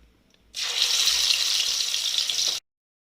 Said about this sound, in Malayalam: ഇതിനകത്തേക്ക് നമുക്ക് മാരിനേറ്റ് ചെയ്തിരിക്കുന്ന ഓരോ പീസും നമുക്ക് ഇട്ട് കൊടുക്കാം